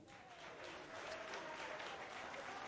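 Steady audience applause at a televised performance showcase of regional artists, a continuous soft wash of many hands clapping, heard from some distance and fairly faint throughout.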